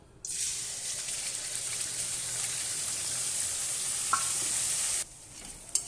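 Spice paste of ginger-garlic, onion, turmeric, salt, coriander-cumin and chilli powders fries in a pan, a steady close sizzle with faint stirring scrapes and one small clink, stopping abruptly near the end.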